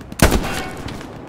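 A single loud gunshot cracks nearby in the World War 2 game Hell Let Loose, a sharp burst that quickly decays into a short rumbling tail.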